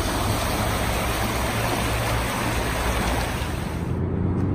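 Rushing water of the Three Mile River rapids, a steady broadband roar that stays loud and continuous throughout, with no voices over it.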